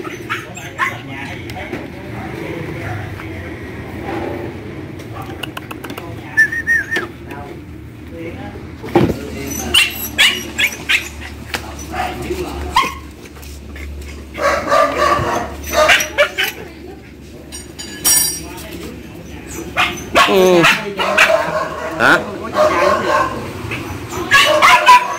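Puppies whimper and yip in scattered, uneven bursts close by, mixed with people talking and rustling handling noises throughout.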